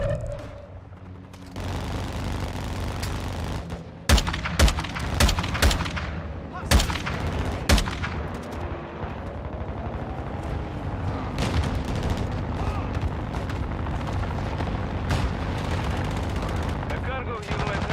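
Heavy gunfire rattles through Call of Duty: Modern Warfare II, with sharp single shots, automatic bursts and booming blasts, loud and dense. Radio-style voices speak at times over the firefight.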